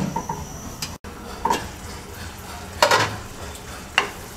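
Thick cooked mung dal with prawns is stirred in a pan, producing a few separate spoon scrapes and clinks over a gentle background sizzle.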